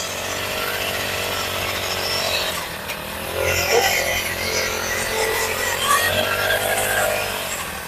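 A small motorized soybean weeding machine runs steadily nearby in a field, its engine drone rising and falling slightly as it works, with no talking.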